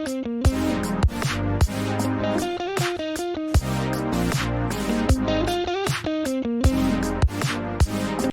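An unprocessed guitar part plays a clear, plucked melodic line with sharp note attacks and steady rhythmic accents, dry and alone.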